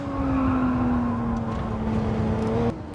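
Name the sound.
race car understeering at Brands Hatch turn 8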